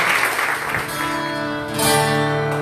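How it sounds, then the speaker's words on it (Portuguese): Church congregation applauding during a service, a dense, sustained wash of clapping from many hands with sung or spoken voices layered over it, swelling slightly toward the end. "Aplauda o Senhor mais uma vez."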